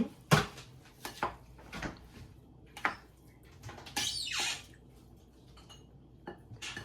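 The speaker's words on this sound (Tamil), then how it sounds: "இப்போ நான் இதை வடிவாக அப்படி குழைக்கிறேன் மிக்ஸ் பண்ணி" Couscous salad with parsley being mixed in a bowl, with a few scattered clinks and scrapes of a utensil against the dish and one longer rustling scrape, near and soft, no one speaking.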